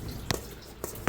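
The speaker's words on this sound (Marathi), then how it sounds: "सगळं पाणी काढून घेऊया एका चाळणीवर।" Water dripping from salted mango pieces as they drain in a sieve: three or four brief, close drips and splats over a quiet background.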